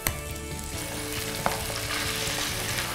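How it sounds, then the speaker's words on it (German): Pork neck steaks sizzling in a frying pan, Christmas-market style, a steady loud crackle and hiss up close with a small clatter at the start and another midway, no voices. "jetzt schmeißen wir in guter alter Weihnachtsmarktmanier Schweinesteaks in die Pfanne."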